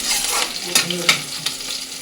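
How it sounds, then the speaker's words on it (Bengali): Chopped ginger and green chillies sizzle in hot oil in a home kitchen pan, a close, steady fry broken by a few sharp clicks of a spoon stirring. "আদা কাঁচা লঙ্কাটা দেখো একটু ভাজা ভাজা হয়ে গেছে"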